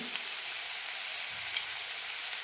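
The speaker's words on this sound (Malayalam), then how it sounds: "കുറച്ച് കറിവേപ്പില ഇടാം" Curry leaves frying in hot oil with onion for an onion curry, a soft, even sizzle heard close up and fairly quiet, with no voices.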